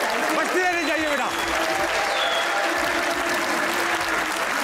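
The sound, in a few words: studio audience applause for guest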